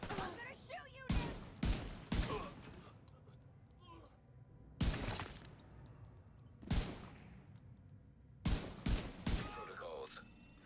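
Bursts of rifle fire in the video game The Division 2, with rapid volleys of sharp, loud shots in several clusters and game sound effects and voices between them.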